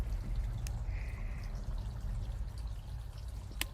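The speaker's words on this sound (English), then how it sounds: "So, let's crack it open and check the pour, shall we?" A freshly cracked can of hazy Juicy Zugspitze beer is poured into a glass, giving a quiet, steady liquid pour with a couple of faint clicks and a soft hiss.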